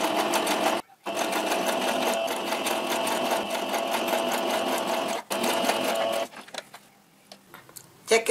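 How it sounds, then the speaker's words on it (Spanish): A sewing machine stitches steadily along the neckline edge of a small baby-style gown, running continuously with two short pauses, then slowing into scattered ticks and light handling near the end. "vamos a ir cosiendo en esta parte todo el contorno del escote del delantero y de los dos de la parte de atrás"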